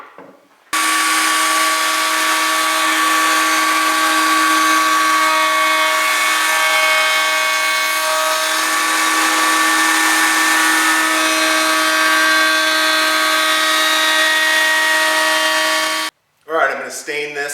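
A power tool cuts a chamfer into a wooden spline box, a loud steady high whine holding for about fifteen seconds before stopping abruptly, with a brief clatter at the end.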